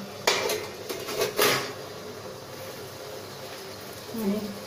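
Flour lamps are set into a pot of boiling water, with a few sharp metal clinks and clatters of the pot and utensils early on, then a quieter stretch of faint rattling.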